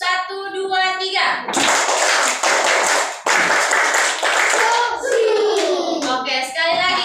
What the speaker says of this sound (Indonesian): Oke, kita tepuk boy sedikit ya.